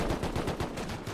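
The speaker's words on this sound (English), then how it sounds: "I'm still getting shot by somebody over there." Automatic gunfire in the survival video game Rust rattles in a rapid, steady burst of close, loud shots that fills the whole moment without talk.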